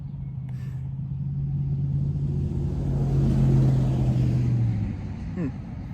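A truck drives past outdoors, its engine rumble swelling as it nears and then fading away over several seconds, with a voice heard against the steady background.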